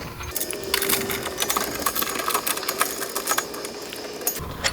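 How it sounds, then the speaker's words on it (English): A nut is screwed onto a wheel hub while installing DRP preload spacers, played fast-forwarded as a dense, rapid chatter of metallic clicks and ratcheting, close and continuous. "we'll fast forward through me having to screw this bad boy on here"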